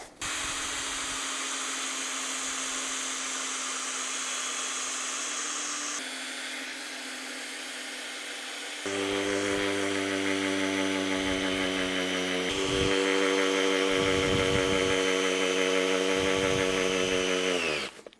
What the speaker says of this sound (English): Then I can just screw these out and put them in the way I want it to